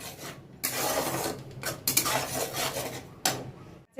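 Onions are stirred in a pan over a lowered gas flame, giving loud, continuous close scraping and rasping strokes of a utensil against metal, broken by a few short pauses.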